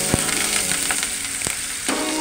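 Onion, garlic and curry leaves fry in hot oil for a lentil-ball kuzhambu, giving a steady close sizzle with a few sharp crackles and light stirring scrapes throughout.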